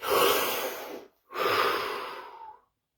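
Two deep breaths taken close to the microphone during a guided relaxation session: a long, loud inhale, a short pause, then a second long, airy breath that fades out.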